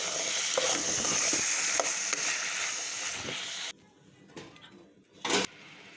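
Bottle gourd pieces frying and stirred in a pan give a loud, steady sizzle with spoon scrapes, then the sizzle drops away abruptly, leaving quieter scraping and one short louder burst.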